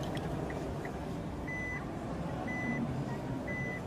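A Nissan automated car backs up while parking itself, sounding repeated evenly spaced reversing beeps over a steady background hum.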